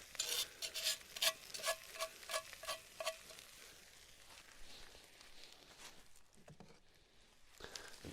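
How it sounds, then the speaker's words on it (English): Onions going into a hot pan and being stirred, with a run of regular scraping or stirring strokes over soft sizzle for the first few seconds, then a quieter steady fry. "I'm gonna throw in the rest of the onions now."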